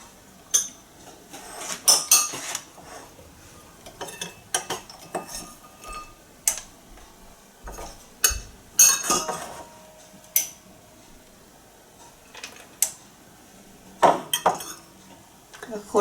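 Walnut pieces being stirred into waffle batter in a bowl, giving scattered utensil clinks and scrapes against the dish at an irregular rhythm, close and moderately loud, with faint talk in places.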